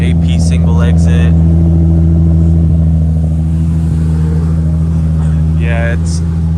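A Nissan 350Z Nismo with stock headers and cats, a Nismo Y-pipe and an Agency Power single-exit exhaust revs loudly close by, a strong, droning engine tone that holds steady with small fluctuations and a few brief higher bursts.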